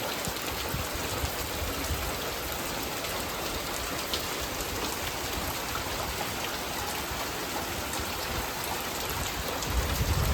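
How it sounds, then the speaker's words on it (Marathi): Heavy monsoon rain in a Konkan village, a dense, constant roar of drops pouring down on surfaces, loud and unbroken with no voices. "पाऊस खूप आहे आज."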